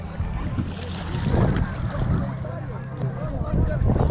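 Waves wash and surge against a steady blow of wind across the microphone, with voices talking briefly in the background.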